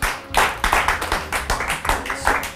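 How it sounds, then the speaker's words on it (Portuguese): A studio audience on a Portuguese interview show claps for an arriving author, a close, uneven burst of handclaps with distinct pulses that keeps going throughout the short stretch. "Uma salva de palmas, por favor"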